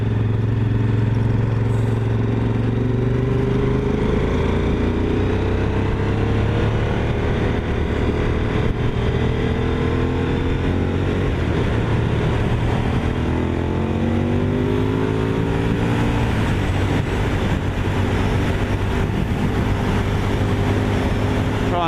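A Honda VTR1000 SP1 motorcycle ridden at night, its V-twin engine droning steadily and loudly with rising and falling revs as it accelerates and shifts, heard continuously with no speech.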